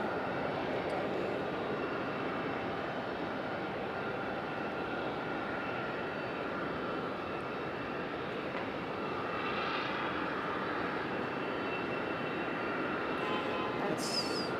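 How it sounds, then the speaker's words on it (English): An American Eagle Embraer E175 LR jet airliner roars steadily at Raleigh Durham International Airport, a loud, continuous broadband engine rumble that holds level throughout with no talking. "American Eagle 4457 E175 LR headed to LaGuardia."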